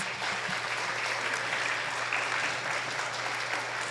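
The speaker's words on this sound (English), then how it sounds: "Let's give him a warm round of applause." A church congregation gives a warm round of applause for a visiting pastor, steady clapping from a gathered crowd, fairly soft and even for several seconds with a low hum beneath.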